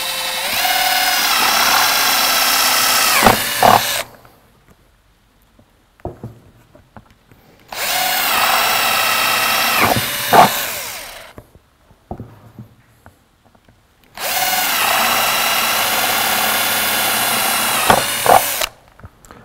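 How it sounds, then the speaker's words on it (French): A power drill bores holes in a plant pot, five centimetres from the bottom, for drainage when potting a shrub for a terrace. Three loud, steady whirring bursts of about four seconds each are separated by quiet pauses, with no talking. "Je vais effectuer le perçage à 5 cm du fond du pot"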